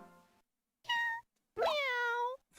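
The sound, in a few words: cat meowing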